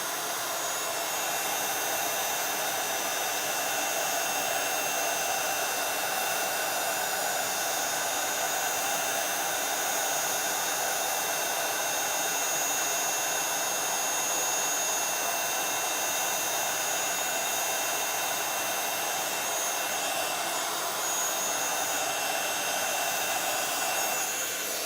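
A heat tool blows with a loud, unbroken whooshing roar, melting glittery embossing powder on a card background, with no talk over it.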